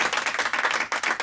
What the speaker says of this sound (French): je voudrais qu'on fasse un tonnerre d'applaudissements pour lui